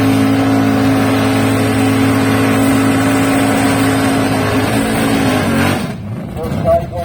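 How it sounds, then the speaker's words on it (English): A 1971 Plymouth American Superstock drag car idles loud and steady at a drag strip, its engine rumbling in the right-hand lane before abruptly dropping away, with an announcer talking over it. "He's at the wheel, that 71 Plymouth Doctor, all fired up in the right-hand lane."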